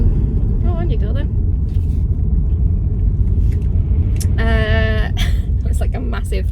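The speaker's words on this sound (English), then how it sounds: "a massive oil lorry delivering oil that just decided to pull out of the junction" A large oil delivery lorry pulling out of a junction, heard as a steady low engine rumble beneath continuous nearby talk, with brief higher tonal sounds partway through.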